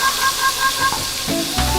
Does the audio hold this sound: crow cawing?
no